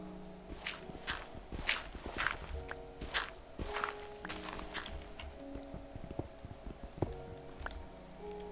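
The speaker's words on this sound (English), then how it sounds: "I hear footsteps. I'm hoping that it's just the sheep." Blocky footsteps in the Minecraft video game tap out an irregular series of steps. Each step is crisp and close, over a faint background hum, with no speech.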